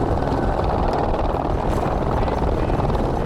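A helicopter flies overhead delivering water to remote desert catchments, its rotor and engine producing a loud, steady churning roar throughout.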